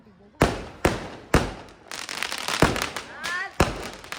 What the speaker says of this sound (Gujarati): આતિશબાજી એમ આતિશબાજી હાલ આ ફૂટી ગયો